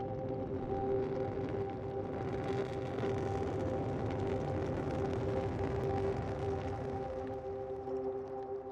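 An airy, atmospheric synth texture from the Rast Sound Atlas space tap hums as a sustained tonal drone with breathy noise around it, steady and moderately quiet throughout with no voices.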